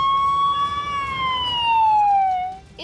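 A loud fire brigade siren wails continuously, its pitch sliding slowly downward, with faint road rumble beneath and no talking.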